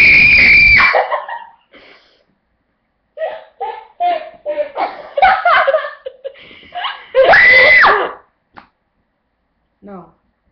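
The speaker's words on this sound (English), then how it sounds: "I'm gonna do my horror scream" A person lets out two loud, shrill horror-movie screams, one at the start and one near the end, with laughter and chatter in between.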